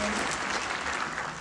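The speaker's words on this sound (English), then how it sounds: "Round of applause for Willow and her fabulous question" Brief burst of steady audience applause in a large hall at an X-Files convention panel, dense and continuous for a second or so.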